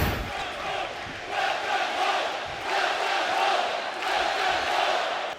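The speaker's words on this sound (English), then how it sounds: "the crowd always loves to see Tomasso Ciampa back here in NXT" A wrestling arena crowd in the WWE 2K25 video game, NXT show, with a steady roar of cheering and chanting at moderate level, sustained and swelling slightly throughout, without clear commentary.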